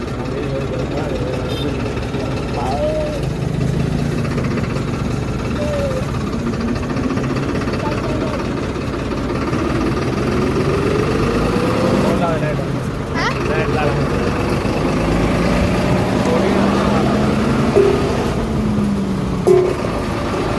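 A motor runs in a paddy field with a steady, continuous mechanical drone throughout, while people talk over it outdoors.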